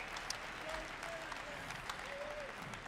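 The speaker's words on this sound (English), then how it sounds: "Give them a round of applause." Applause from a crowd at a Bitcoin conference, faint and distant-sounding under a low hum, with a few tonal whistles or cheers and some background murmur.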